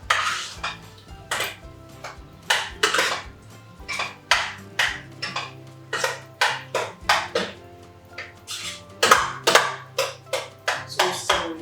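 A metal spoon stirring okra in tomato sauce in a simmering pot, repeated clanking scrapes and knocks against the pot in a steady uneven rhythm, close and alone.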